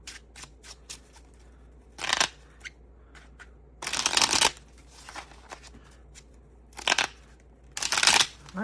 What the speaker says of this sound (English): these cards are a little slippery, so last time I dropped them everywhere